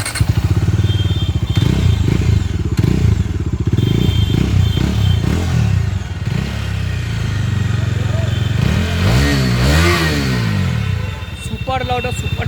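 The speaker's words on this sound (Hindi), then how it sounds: "सुपर लाउड और सुपर क्लियर साउंड है डोमिनार 250 का।" A 2021 Bajaj Dominar 250 motorcycle engine idles with a loud, steady thrum, then is revved several times with rising and falling surges, close to the listener, with a voice talking over it.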